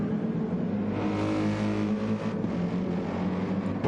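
A Mercedes-AMG GT Evo race car engine drones steadily on a circuit at Catalunya, loud and sustained with a rich harmonic roar that rises slightly in pitch, close and alone without talk.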